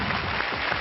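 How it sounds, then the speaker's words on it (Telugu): Studio audience at a Telugu television game show clapping, a short dense burst of steady applause with no voices. "క్లాప్స్."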